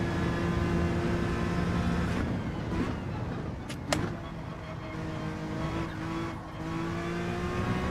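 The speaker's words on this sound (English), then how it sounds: "Way off pace with this bloody NSX at the moment." Honda NSX race car engine in Gran Turismo 7 racing game, a steady loud high-revving drone held close throughout, with brief tire squeal and shifting pitch around the middle.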